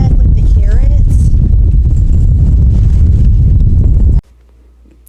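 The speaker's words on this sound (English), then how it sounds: "the wind really picked up and you couldn't hear what I was saying" Strong wind buffets a microphone outdoors in a small homestead garden, a loud, continuous low rumble that covers a speaking voice for about four seconds before cutting to near silence.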